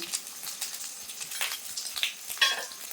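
Spices and Kashmiri chilli powder sizzle and fry in a pan, with crackling spatters and a few stirring scrapes coming through irregularly, close by and fairly soft.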